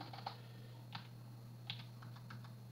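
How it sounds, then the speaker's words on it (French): Several separate key presses on a computer keyboard, spaced irregularly and fairly quiet over a steady low hum, with no talking. "je tape sur le clavier"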